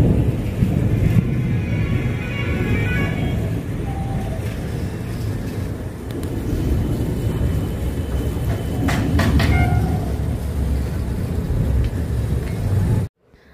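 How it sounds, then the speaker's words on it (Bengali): Distant thunder rolls beneath a cloudy sky, a low, continuous rumble that swells and fades softly, with faint outdoor ambience over it. "আকাশটা ডেকে যাচ্ছে, মানে গুড়গুড় করছে সবসময়"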